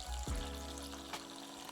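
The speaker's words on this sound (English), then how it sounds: "add in a good 200 millilitres of water" Water poured into a hot pan of 1 kg minced lamb or beef for keema, a brief splashing trickle with a low sizzle beneath, close and steady for under two seconds.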